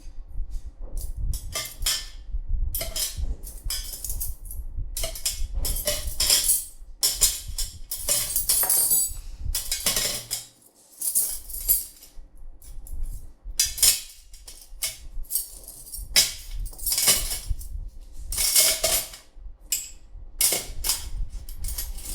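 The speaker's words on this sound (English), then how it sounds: "I'm going to put all the forks here and I'm going to put all the spoons here" Metal forks and spoons clink and clatter as they are sorted into separate piles, a steady run of sharp, close taps and rattles with brief pauses between handfuls.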